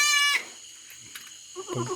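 A farm goat gives a single sharp, harmonic bleat at the start, followed by quiet rustling and a soft voice-like murmur near the end.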